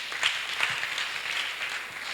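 A church congregation applauding in acclamation during a service, a soft, steady patter of many hands clapping heard at a distance, fairly faint and continuous.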